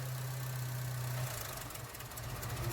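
An Opel Astra J 1.4 Turbo with an evaporative valve fault, its engine idling roughly at a low, uneven hum that falters partway through as it struggles to stay running, recorded close up.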